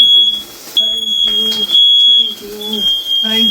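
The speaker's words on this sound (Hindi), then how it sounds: "हमारा फायर अलार्म बोल रहा है" A fire alarm emits a piercing, high-pitched beep that repeats almost continuously while people talk nearby.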